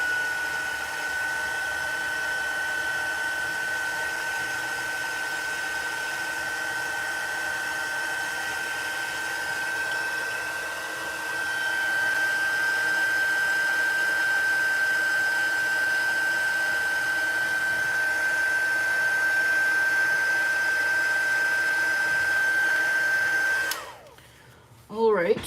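A hair dryer blows steadily on a mixed media art piece, a constant close whirring whine with a slight shift in airflow midway before it cuts off near the end.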